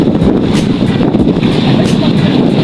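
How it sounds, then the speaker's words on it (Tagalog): Strong sea waves near an island on a very windy day give a loud, steady roar and surge, with heavy wind buffeting the microphone throughout. Faint voices sit under the noise. "Grabe ang alon sa kanyang background."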